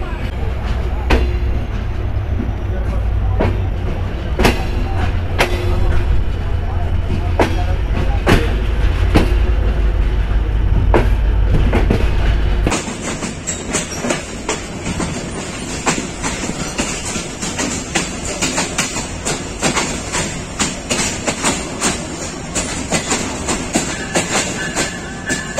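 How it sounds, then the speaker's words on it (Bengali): Chilahati Express running on the rails after leaving Santahar station, a loud continuous rumble with rhythmic clicks of wheels over rail joints, the deep low drone dropping away halfway as the sound turns brighter and rattly. "সান্তাহার রেলওয়ে স্টেশন থেকে চিলাহাটি এক্সপ্রেস ছেড়ে দিল"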